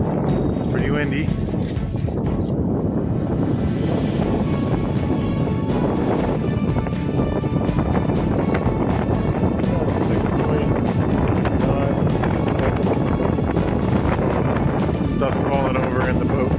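Gusty wind buffets a Hughes Columbia 8.7 sailboat heeled well over on Georgian Bay, a loud, steady roaring rush that runs the whole time, with voices heard in the background.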